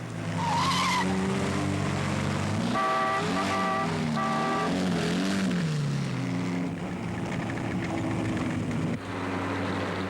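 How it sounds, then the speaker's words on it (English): Rally car engines, including Triumphs, roar and rev loudly climbing a mountain pass in the Coupe des Alpes, gears shifting with rising and falling whines, a dense, continuous motor din. "The triumphs of Titterington and Aniswabo force their way up the Jovo Pass."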